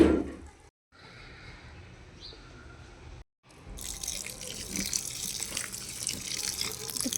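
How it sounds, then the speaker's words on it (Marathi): Water is poured by hand over freshly planted vegetable beds and grow bags holding coriander and climbing vines, a steady trickling splash that pauses briefly, then continues as a louder spattering stream. "सगळीकडे थोडं थोडं पाणी टाकूया."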